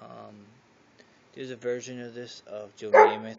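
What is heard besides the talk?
dog barking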